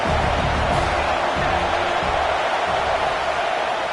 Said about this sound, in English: Crowd rising up, sensing that its defense needs some help.